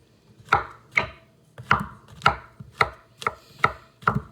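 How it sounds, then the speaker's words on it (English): Ingredients for baked spaghetti being chopped with a knife on a cutting board, seven crisp, evenly spaced strokes sounding close and clear with no talking. "So we'll get chopping away here."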